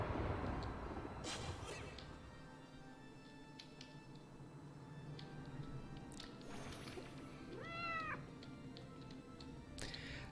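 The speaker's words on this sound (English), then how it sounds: "I hear a kitty kitty." Cat meowing in a video game, one clear drawn-out meow rising and falling midway through, set against a soft ambient game background with faint clicks and no talk.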